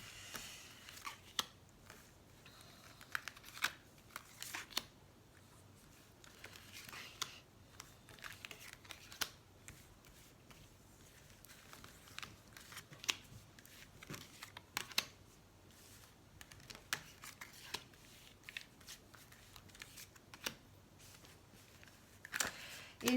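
Oracle cards being shuffled and drawn, a spread of nine cards laid out: quiet, crisp papery clicks and flicks come in irregular bursts over a low room hush, close to the listener, with no talk.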